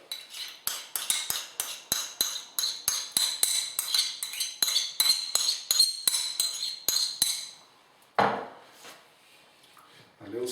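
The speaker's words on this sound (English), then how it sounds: "A little stir around." A utensil stirs Bolognese sauce made with tomato puree and passata in a pan, giving a quick, even run of about twenty crisp metallic clinks. A louder knock follows, then a short quiet stretch.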